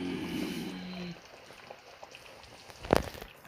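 A pot of Korean spicy fish stew (maeuntang) with fish heads and radish simmering, a faint bubbling hiss beneath a brief tonal hum at the start and a sharp clink near the end.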